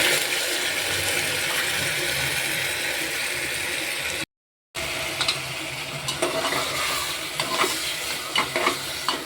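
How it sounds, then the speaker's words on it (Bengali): Marinated mutton going into frying onions in a pressure cooker, a steady broad sizzle with stirring scrapes, a brief dropout midway, then sharper crackles and clinks as the meat fries. "এবার আমি ম্যারিনেট করা যে মটনটা আছে, মটনটা আস্তে আস্তে এর মধ্যে দিয়ে দেবো।"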